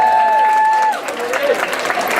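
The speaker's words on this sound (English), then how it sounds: "Would you please put your hand together, one hand clapping, very Buddhist style," Audience applause for Cameron Grace during bard pitches at the Bardic Picnic 2016, breaking out after a sustained tone fades and continuing as a steady crowd patter to the end.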